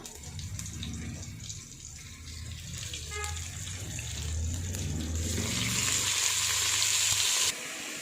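Steady sizzling of hot oil, growing louder and hissier partway through as tender jackfruit pieces go in, with some stirring and low background murmur.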